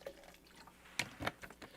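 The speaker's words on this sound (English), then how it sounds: "And pour some fucking water in there." Water poured into a jar to mix a protein slurry, heard as a few short, faint liquid splashes and drips in otherwise quiet surroundings, with no voices.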